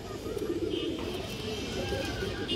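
Pigeons, including highflyer and kaldam breeds, coo softly in a loft under a steady low rumble of background noise, their faint cooing blending into the murmur throughout.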